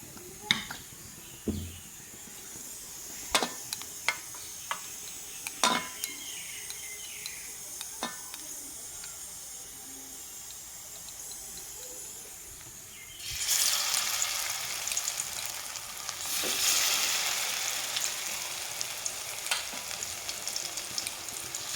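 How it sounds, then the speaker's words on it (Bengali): Pieces of banana flower and potato coated in gram flour batter drop into hot oil in a wok. After a stretch of quiet utensil clinks, a loud, close sizzle bursts in and keeps crackling steadily. "তো এইভাবে সবগুলো ভেজে নেব"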